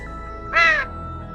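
A single crow caw used as a raid alert sound effect on a Final Fantasy XIV stream, one short harsh call in the middle of an otherwise quiet background.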